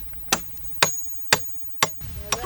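A hammer strikes while young athletes build their own homemade equipment, with five sharp, evenly spaced blows about half a second apart over a faint steady background hum and no talking.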